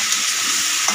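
Chicken pieces sizzle in a pan of oil with browned fried onions, a steady close hiss lasting about a second with faint stirring and no talk.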